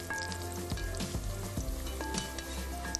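Onions frying in a pot for chicken biryani, with a continuous close hiss and crackle of sizzling oil and a few low thumps of stirring or handling, no talk.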